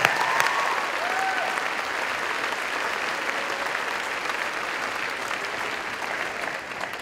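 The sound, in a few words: applause for teachers during graduation speech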